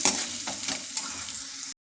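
Mustard seeds, chana dal and ginger fry in hot oil, making a close, steady sizzle with faint crackles that goes on without a break until it stops abruptly near the end.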